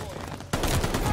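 Rapid MP40 submachine gun bursts in Call of Duty Vanguard, a dense, loud rattle of gunfire kicking in abruptly after a quieter stretch of game ambience.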